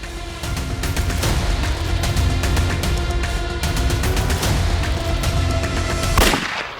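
A loud, dense volley of gunfire rattles through a TV crime drama scene, shots tumbling rapidly one after another, ending with a heavier boom.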